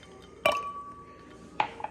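An ice cube drops into a glass of Huckleberry 102 Limited Cask bourbon whiskey with a sharp clink that rings briefly, then a second lighter clink follows about a second later, close up with no talking.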